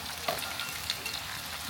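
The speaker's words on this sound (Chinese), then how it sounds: "这样做是为了让鱼的每一部分都能被油炸到。" Fish pieces fry in hot oil in a wok while oil is spooned over them, giving a steady close crackling sizzle with faint scrapes and no speech.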